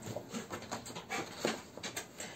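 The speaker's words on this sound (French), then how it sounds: "c'est Oslo qui a décidé de courir partout dans toute la maison" Dog running around inside a house, making faint scattered patters and light scuffs with a little panting, quiet and distant with no talk.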